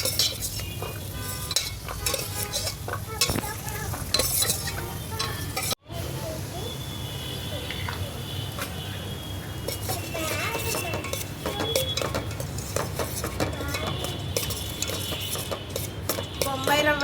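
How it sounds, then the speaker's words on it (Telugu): Cashews and almonds fry in a pan while a utensil stirs steadily, with a continuous sizzle, clinks of metal against the pan and scraping throughout; brief pause near the middle. "అనేది మంచిగా గోల్డెన్ కలర్ వచ్చే వరకు ఫ్రై చేసుకుందాం"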